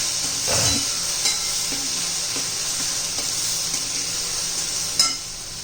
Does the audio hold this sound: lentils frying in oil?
yes